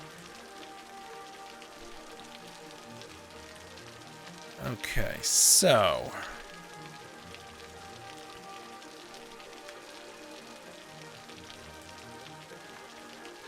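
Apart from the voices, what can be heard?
rain from dynamic weather in video game Cities Skylines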